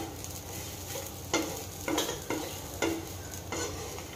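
Masala is stirred while dry roasting in a pan over low flame, giving soft scraping strokes at a steady rhythm over a constant low sizzle, close and moderate in volume.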